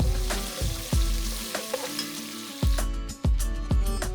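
Ginger-garlic paste fries in oil, sizzling steadily in a pan while a utensil scrapes and taps the bottom in repeated stirring strokes, close and fairly loud.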